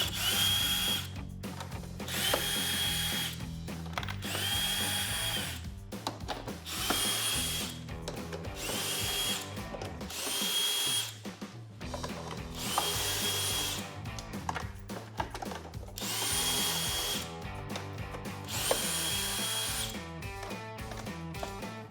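A power drill drives out screws from the front bumper of a Jeep Gladiator JT, whining loudly in repeated bursts that start and stop as each screw spins free.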